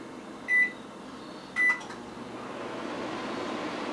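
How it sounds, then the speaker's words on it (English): Two short electronic beeps from button presses, then a low, steady hum as the microwave starts running. "Just want to place it in the microwave for a few seconds."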